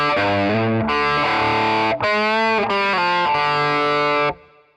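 Slow run-through of bar 4 of a song on distorted electric guitar, a handful of loud sustained notes and changes played alone before a quick decay.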